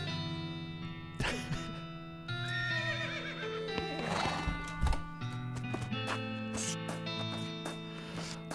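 A horse in the video game West of Loathing gives a loud whinny, followed by clip-clopping hooves, all set over steady background game music.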